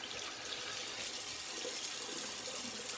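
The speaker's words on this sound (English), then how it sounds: "This cold water rinse." A water tap running for a cold-water rinse during a shave, a steady hissing splash of water into a sink, fairly faint and continuous with no talk.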